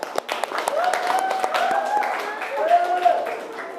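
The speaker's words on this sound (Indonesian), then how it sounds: "Tepuk tangan." Pupils in a school classroom clap together after a morning lesson, the scattered claps mixing with young voices for a few seconds.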